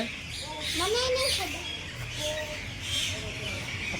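Shrill bird squawks and whistled calls from a cockatiel at Kankaria Zoo in Ahmedabad ring out repeatedly over a noisy background with faint chatter, fairly close.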